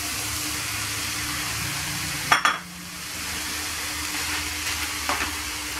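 Vegetables, including zucchini and pumpkin, frying in a pot for a Moroccan msemen filling, with a steady close sizzle, a sharp clink of a utensil against the pot partway through and softer stirring scrapes afterward.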